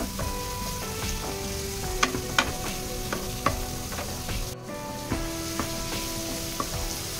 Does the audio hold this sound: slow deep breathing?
no